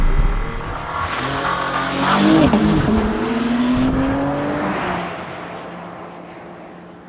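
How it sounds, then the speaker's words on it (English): A 2022 Porsche Panamera E-Hybrid launches hard from a standstill using launch control, its engine note climbing steadily as it accelerates loudly past, then fading away. "Brake, gas, launch control."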